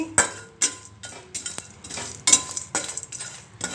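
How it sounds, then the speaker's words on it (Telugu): Whole cardamom pods, white cumin and other whole spices dry-roasting in a pan for biryani masala, heard as a run of sharp metallic clinks and scrapes of a utensil stirring, repeating irregularly and close up with no talk. "ఇలాచీలు ఇవన్నీ ఒకసారి వేయించుకుందామండి"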